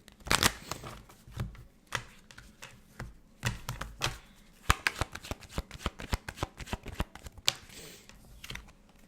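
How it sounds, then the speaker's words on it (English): Rapid riffling and flicking of tarot cards being shuffled, crisp irregular snaps and bursts continuing steadily, close by, with no voices. "I did a pre-shuffle and this card came out as well"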